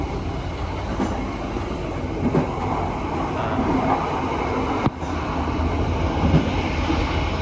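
Joglosemarkerto economy train running on a single track between Solo and Kalioso, heard from inside the carriage as a continuous loud rumble with rhythmic clattering of wheels over rail joints and a sharp knock near the end.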